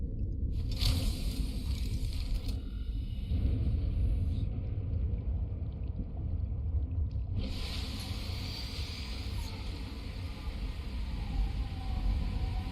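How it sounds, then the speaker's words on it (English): Deep thunder rumbles from a lightning storm in the video game Subnautica: Below Zero, a low rolling roar with a sharper crackling burst partway through, heavy and sustained. "Oh, lightning."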